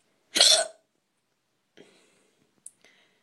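Deep, loud hiccups from someone who has been drinking beer: one strong burst near the start, then several fainter catches and small clicks spread out over a few seconds.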